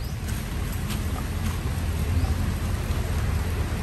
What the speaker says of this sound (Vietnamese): Trời mưa tới rồi bà.